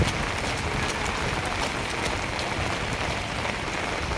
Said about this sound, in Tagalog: Dahil umuulan.